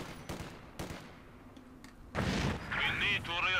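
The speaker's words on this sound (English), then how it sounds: "There goes the HE grenade, out comes the squad." An HE grenade explodes in the video game Company of Heroes 2: a few thuds of distant battle fire come first, then a loud, broad blast that rolls on with crackling debris and battlefield noise.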